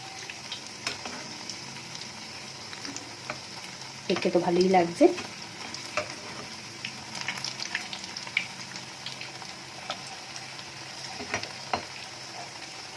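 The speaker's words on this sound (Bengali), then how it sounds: "এটাকে ওইভাবেই এখন লাল করে আমি ভেজে নেব।" Potato tikki patties fry in oil in a pan, giving a soft, steady sizzle with a burst of louder crackling and clatter midway as they are turned or stirred, while someone speaks briefly.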